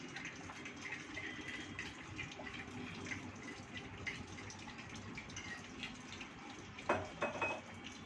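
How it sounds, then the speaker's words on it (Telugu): Faint, steady trickle of water being poured, with a brief louder splash and clatter near the end. "వాటర్ కలుపుకుంటున్నాను"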